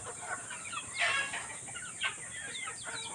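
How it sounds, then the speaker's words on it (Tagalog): Chickens clucking close by, a run of short, overlapping calls with a couple of louder squawks rising above the flock. "itong mga alaga nating manok"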